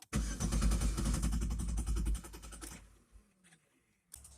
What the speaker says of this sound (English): Now we're going to turn the ignition over. Make it start and run till it runs out of gas.